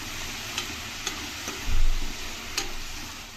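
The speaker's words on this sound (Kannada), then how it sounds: "ಇದನ್ನು ಅಷ್ಟೇ ಚೆನ್ನಾಗಿ ಎಣ್ಣೆಲಿ ಫ್ರೈ ಮಾಡ್ಕೋಬೇಕಾಗುತ್ತೆ." Fenugreek leaves fry in oil in a pan, giving a steady close sizzle and hiss. Occasional sharp ticks and scrapes of stirring cut through it, with no voices.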